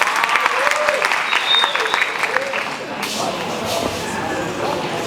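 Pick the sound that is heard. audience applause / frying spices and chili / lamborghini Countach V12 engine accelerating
audience applause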